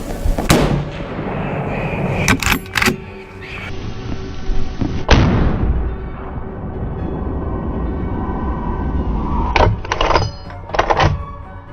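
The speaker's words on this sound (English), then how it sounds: "The moment the target was centered in the scope, the shot rang out." Rifle shots fired at wild boar near a farm, heard as several sharp loud cracks with echoing tails spread across the stretch, over a steady outdoor background.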